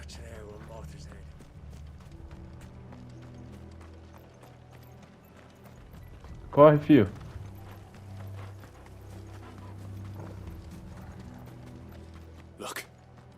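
Horse hooves clip-clop at a gallop in the video game Final Fantasy XVI, a low rumbling rhythm under game music, with a brief whinny-like burst midway and someone speaking over it.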